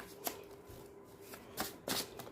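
Tarot cards being shuffled and drawn by hand, a few quick papery riffles and slaps spaced apart at close range, with no talking.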